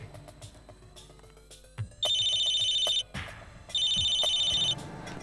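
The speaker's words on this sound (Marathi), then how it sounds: "कोणाचा फोन आहे?" A telephone bell rings loud and close in two long, steady bursts separated by a short pause, over low background noise, with no one speaking.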